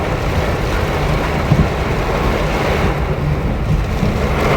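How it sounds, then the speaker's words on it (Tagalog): Storm wind and heavy rain from a typhoon on a flooded street at Monumento, a steady loud roaring wash with gusty buffeting against the microphone that runs without a break. "Grabe, inabot ng bagyo."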